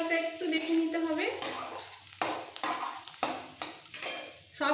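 Spiced potato dosa stuffing stirred in a pan, a series of loud scraping and clanking strokes against the metal at an uneven rhythm, close up, with a faint trace of voice.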